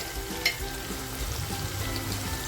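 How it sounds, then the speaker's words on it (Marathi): Kashmiri chili powder sizzles in hot oil in a pan, a steady low fry with a brief stir or clink near the start, close and fairly quiet, no talking. "म्हणून मी तेलामध्ये काश्मीरी मिरची पावडर टाकते"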